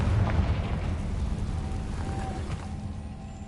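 Rumbling, booming spell blasts from the Bombarda and Confringo spells in the Hogwarts Legacy video game, a sustained low roar with a few muffled bursts throughout.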